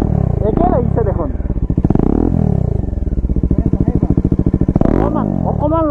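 A motorcycle fitted with a valvetronic exhaust, valve open, blips and revs loudly up close, its engine note rising and falling in sharp bursts with a throbbing idle between, while people talk over it.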